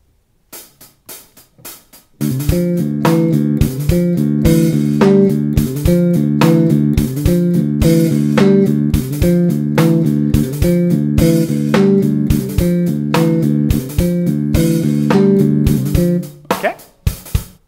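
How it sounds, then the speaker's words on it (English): After a few sparse clicks, a looping drum pattern with a steady kick and bright cymbal hits plays loudly and evenly, then stops abruptly. "eventually you can try with the drum track, which sounds like this"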